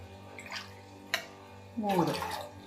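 Water poured into a pot on the stove for masala black tea, a short splashing pour building near the end after a faint drip-like tap, close and moderately loud.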